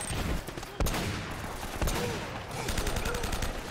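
Sniper rifle shots ring out in the video game Uncharted: Drake's Fortune, with a few sharp cracks standing out from dense combat noise and a player's voice talking over the action.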